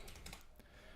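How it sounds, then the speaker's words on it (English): A computer keyboard slides and bumps on a desk in a short, close shuffle with a few clicky knocks, and no talking. "Oh, I got to pull my keyboard back."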